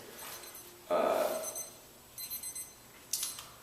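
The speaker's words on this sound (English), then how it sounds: "I got my little beeper going off here" A small electronic beeper goes off indoors in a short run of shrill tones: a longer burst, then a few quick chirps and a final brief one, fairly near and heard without speech.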